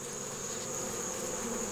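Honey bees in a Carniolan queen's nuc hive hum steadily and close, a dense continuous buzz filling the whole moment with no voices.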